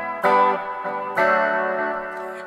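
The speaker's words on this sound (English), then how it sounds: "So you could have the spring reverb sound if you wanted that." Sustained electric guitar notes from a Jackson Dinky through a Nux Mighty 20BT amp ring out with a wet, splashy spring reverb, two strummed chords blooming and decaying with a shimmering tail.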